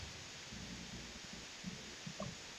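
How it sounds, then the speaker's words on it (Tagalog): Steady heavy rain hisses throughout, with faint low thunder rumbles underneath and no talk. "Oo, kumukulog na. Malakas ulan dito eh."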